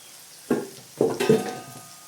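Masala of turmeric, coriander and chilli powder frying in oil for a yam (karunai kizhangu) curry, heard as a few short sizzling bursts with stirring, close and moderately loud, with no talk.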